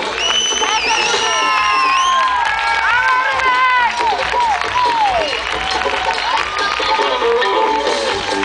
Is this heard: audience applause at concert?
yes